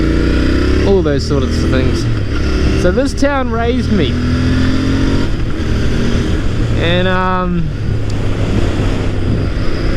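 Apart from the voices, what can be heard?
Royal Enfield Interceptor 650 motorcycle engine revving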